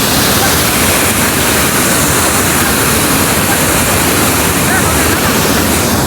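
Water rushes over a village dam near Chirner during rain, making a loud, dense, continuous roar with no breaks, heard close up.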